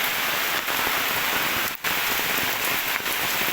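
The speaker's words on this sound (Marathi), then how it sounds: "पाऊस सगळीकडे चालू आहे" Monsoon rain falls steadily in Kerala among rubber trees, a dense, loud, unbroken hiss of drops striking surfaces nearby, with no voices.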